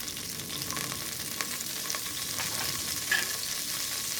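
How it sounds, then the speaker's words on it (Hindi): Cumin seeds sizzle in butter over a very low flame in a pressure cooker while pav bhaji is being made, a steady soft frying hiss with light crackles, close and unbroken, no voice. "तो अब मैं इसमें डाल दूँगी जीरा"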